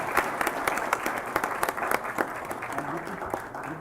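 Audience applause at a healthcare management conference, steady rapid clapping from a crowd throughout, with a voice speaking faintly beneath it.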